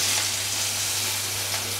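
Onion, garlic and chopped green chili fry in oil for a Bengali potol chingri dorma filling, making a steady, close sizzle that holds even throughout the short moment, with no one talking.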